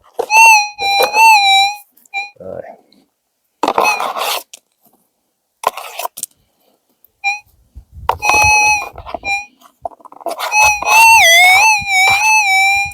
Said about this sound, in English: That's the sort of sound you want a bit of quartz to make.